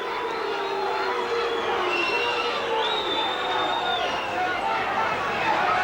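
Rugby league crowd at a Hull Kingston Rovers versus Australia match jeering the referee: a steady, dense roar of booing and whistling from a large stadium audience, continuous and fairly loud.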